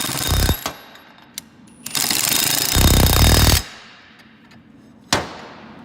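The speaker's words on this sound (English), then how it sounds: "And we'll go ahead and get this tightened up." A power tool tightens a nut onto a bolt while a 360 Bandit is assembled, with several short loud rattling bursts and one longer burst, each separated by quiet gaps.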